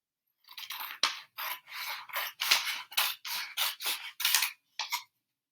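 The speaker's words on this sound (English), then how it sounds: "And I'm going to cut along the line." Scissors cut paper along a line in a brisk run of about a dozen crisp snips and rasping slices, close and alone, with a short pause before the last cut.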